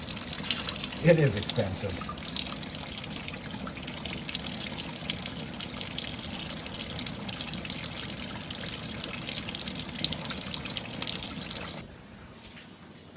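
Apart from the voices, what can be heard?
rinsing out container with running water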